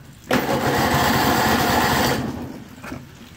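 A Briggs and Stratton 18hp Vanguard engine being started: an abrupt loud cranking whir that holds steady for about two seconds, then dies away, followed by a faint brief knock, close and unaccompanied by voices.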